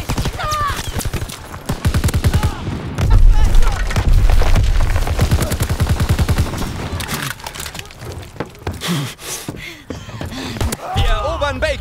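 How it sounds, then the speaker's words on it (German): Grenade blast and gunfire in a Call of Duty WWII multiplayer match, with a loud booming burst and rapid volleys of shots sounding close and dense, under a voice talking in German. "Granate geworfen!"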